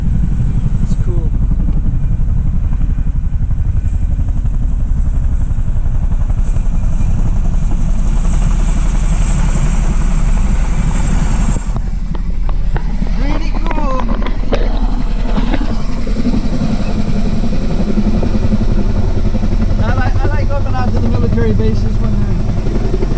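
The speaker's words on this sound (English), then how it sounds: "Oh, I got the big helicopter. What do they call this? With the twin blades." Large twin-rotor military helicopter flies near Schofield, a loud, continuous rotor rumble and engine drone that swells and shifts, with a person talking over it.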